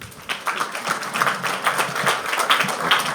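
Audience applause welcoming Governor Seyi Makinde at the Oyo State International Business Summit, a dense, steady wash of many hands clapping close by with no voices.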